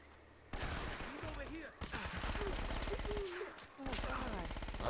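Enemy gunfire in the video game Uncharted: Drake's Fortune crackles in rapid bursts, quiet and fairly steady, with short gaps between volleys.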